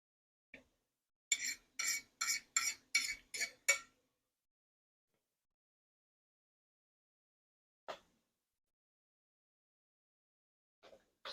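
A spoon clinks against a pan or bowl as chopped bacon is stirred into Brussels sprouts, six quick rhythmic scrapes in a row followed by a few isolated taps, close and clear in otherwise quiet surroundings.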